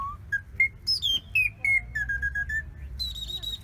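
A handheld bird caller gives a run of clear, tuneful whistled chirps imitating birdsong, some rising and some falling in a lively broken rhythm, loud and close with no talking over it.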